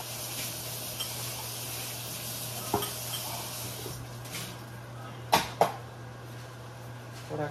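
Eggs frying in a pan with green beans give a steady low sizzle, with a few sharp clinks of utensils against the pan partway through.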